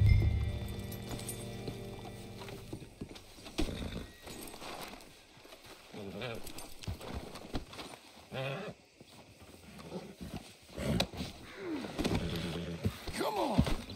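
Horse hooves clip-clopping in the Red Dead Redemption 2 video game, an irregular series of soft hoof steps under game ambience and faint talk, fairly quiet and close.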